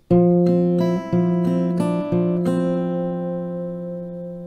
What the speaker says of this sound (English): then we have the last F now